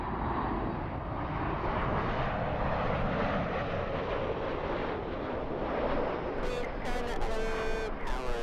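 A jet airliner on the Atlanta flight at an airport passes by, a loud continuous rumbling roar close by that holds steady, with brief higher tonal sounds near the end.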